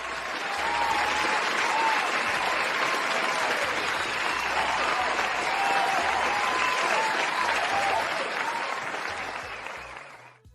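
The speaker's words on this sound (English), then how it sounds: "Let me give you a little round of applause there." A full round of clapping, thick and steady for about ten seconds before tapering off at the end.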